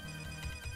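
Short electronic phone ringtone from the Pokemon Emerald video game, a fraction of a second of steady tonal chiming at moderate volume with no voice over it.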